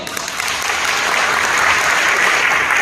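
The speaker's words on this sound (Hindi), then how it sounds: "तालियां होनी चाहिए।" Loud, dense audience applause during a motivational business speech, a continuous wash of clapping that holds steady throughout with little talk.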